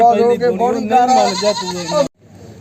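A goat bleats loudly and close by at a goat market in Bargari, a long wavering cry ending abruptly, with faint background noise after.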